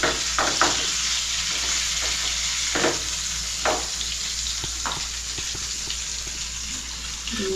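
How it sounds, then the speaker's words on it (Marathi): Fish fries in a pan with a constant loud hiss and sizzle, broken by a few sharper spits and splashes, heard up close with no voices. "मासे फ्राय होताना बघायची पण एक मजा असते"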